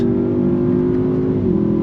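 A 2023 Audi S8 pulls hard under throttle, its engine droning at a loud steady pitch heard from inside the cabin, and a quick gear shift drops the tone near the end.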